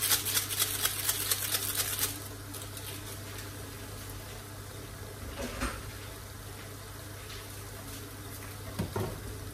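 Chopped onions sizzle and crackle in a hot pot for Nigerian party jollof rice, loud at first with a bright hiss, then settling into a steady quieter frying under a low hum.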